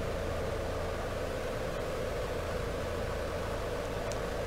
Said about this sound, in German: bleibt dieses Rauschen jetzt die ganze Zeit?